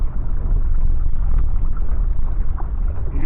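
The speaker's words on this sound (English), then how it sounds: "You can hear the launch right now." Distant SpaceX rocket launch rumbling from a kayak on the water, a steady low roar that holds for several seconds with wind and water noise, no talk.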